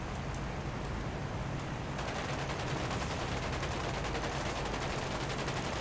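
Aircraft machine guns firing in War Thunder, a dense, continuous rattle of rapid shots over a constant roar of engine noise, loud and unbroken throughout.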